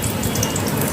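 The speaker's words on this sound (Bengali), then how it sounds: "ডুবো তেলে দিয়ে এভাবে আস্তে আস্তে একটা একটা করে দিয়ে ভাজতে থাকবো।" Piyaju fritters deep-frying in a pan of oil, a dense, steady crackling sizzle that fills the whole moment, loud and close with no pauses.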